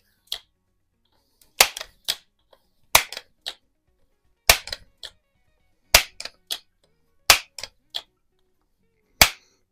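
A 1955–56 Crosman 140/147 pump air rifle gives a series of sharp, loud cracks and clacks from pumping strokes and shots, spaced at irregular intervals over near silence.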